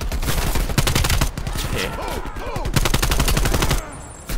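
Dense gunfire and bursts of automatic weapons in the video game Call of Duty: Black Ops Cold War, rapid loud shots rattling almost nonstop with brief lulls, while a player speaks briefly.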